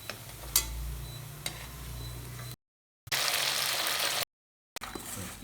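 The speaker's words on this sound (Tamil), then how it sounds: "இந்த அவசரப்படாமல் பொறுமையாக பொரிச்சு எடுக்கணும்." Colocasia (sembu) pieces fry in hot oil with a continuous bubbling sizzle and occasional stirring scrapes, interrupted by two short silent cuts.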